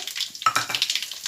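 Mustard seeds, cumin and dried red chilies crackle and sizzle in hot oil, a bright, spitting fry with quick popping bursts close up, without any voices.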